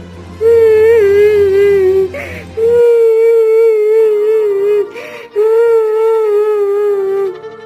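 A woman's loud, close sobbing in drawn-out quavering wails, three long phrases separated by sharp intakes of breath, in a Hindi cartoon story.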